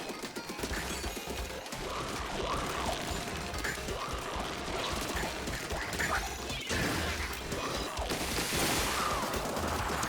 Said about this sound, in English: I figured 2 bombs and a splashdown would instantly destroy the portal